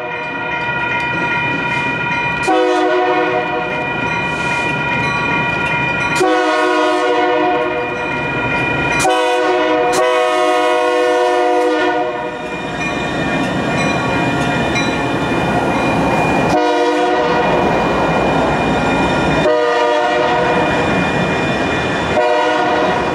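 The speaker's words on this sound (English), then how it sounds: "The first train we saw was a 4-unit light power move in reverse northbound, the leader being an" A Union Pacific light power move of four locomotives led by an EMD SD70M, running in reverse northbound in Portland, Oregon, sounds its horn in repeated loud blasts over the rumble of the passing engines.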